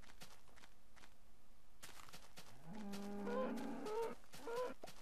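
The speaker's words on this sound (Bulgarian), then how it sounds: "Сега да убия тези крави." Cows in the game Minecraft give several low, drawn-out moos in the second half, over soft blocky footstep clicks, fairly quiet with no voices.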